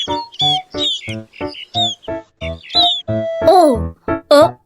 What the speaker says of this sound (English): Look, a nest. Bird sounds.